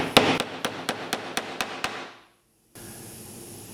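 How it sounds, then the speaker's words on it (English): A magnetic tack hammer drives upholstery tacks into a wooden seat frame, eight crisp evenly spaced taps close by, the first hardest, followed by a short silence and then a faint room hum. "you get yourself a CS Osborne magnetic tack hammer"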